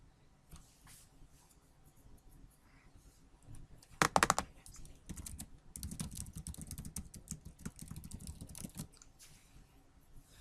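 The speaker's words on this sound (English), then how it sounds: "You just type whatever you want." Typing on a computer keyboard in soft, irregular bursts of key clicks, faint at first, with one sharper louder clatter before a denser stretch of quiet tapping.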